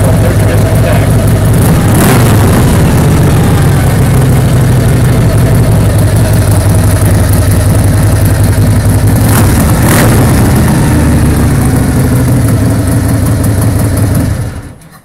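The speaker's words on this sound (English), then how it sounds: "We've got the Stage 1 exhaust on there, so that sounds really nice." A motorcycle fitted with a Stage 1 exhaust idles loudly and close, a steady deep burbling rumble with a couple of brief throttle blips before cutting off at the end.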